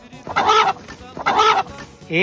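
A chicken clucks in two drawn-out bursts, close and fairly loud, ending with a rising squawk.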